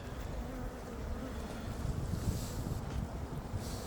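Honeybees buzz at an opened hive during a spring inspection after winter, a steady close drone with some wind noise across the microphone and no talking.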